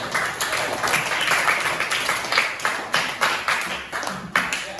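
Students in an Indonesian classroom clap together, a quick, uneven patter of many hands that rises briefly and fades out over a few seconds.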